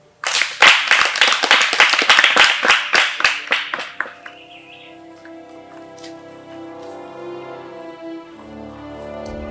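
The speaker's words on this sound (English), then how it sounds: "Clap for them again." A group claps in a quick, rhythmic burst for winners at a children's event, about a dozen sharp close claps over four seconds, then giving way to sustained tones.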